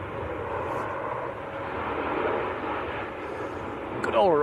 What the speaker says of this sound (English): Good old Ryanair. He's touching down.